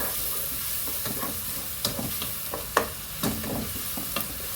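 Spice paste with cumin and garam masala fries for a Punjabi-style palak paneer, a constant close sizzle broken by scattered scraping taps of stirring.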